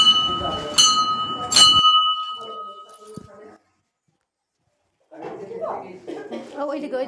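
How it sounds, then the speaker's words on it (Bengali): A hand bell rings at a Shiva puja in a temple, two or three bright clanging strokes ringing out and fading, followed by a pause, then people talking nearby. "তাহলে আমি ঘন্টাটা একটু বাজিয়ে নিই।"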